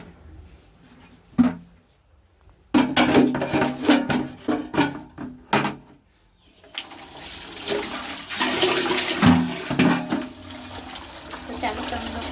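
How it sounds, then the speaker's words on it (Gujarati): In a bathroom, a bucket is filled with tap water: a couple of short knocks come first, then a loud, uneven rush of water that splashes and gurgles close by, easing briefly before surging again. "તો આપણે બાથરૂમમાંથી ડોલ ભરી આવશું"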